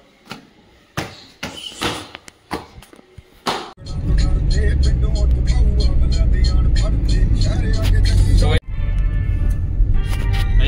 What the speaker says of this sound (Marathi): गाडी चालू आता जाम खड्डे आहेत रस्त्याला